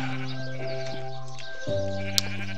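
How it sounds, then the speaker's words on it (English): Minecraft video game sheep giving two drawn-out bleats in succession, the second lower and steadier, close and clear with a tiny click near the end. "There's a whole lot of sheep in there running around."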